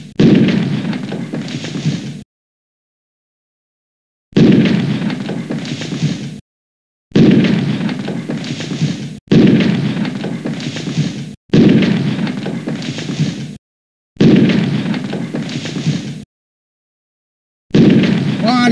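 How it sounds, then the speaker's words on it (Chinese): Bombs explode in the Bomberman video game, seven loud booming bursts spaced about two seconds apart, each cut off by short silences. "小心，要爆炸的哦。"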